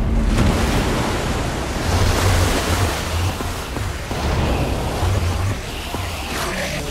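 Water gushes from a lever-triggered contraption in Minecraft Story Mode, a steady loud roaring rush like surf that fills the whole stretch with low rumbling surges.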